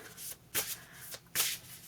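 Oracle cards are shuffled close by in soft riffling bursts, about three quick rustling strokes in under two seconds, faint and with no talking.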